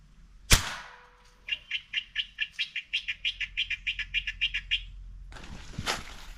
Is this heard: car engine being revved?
no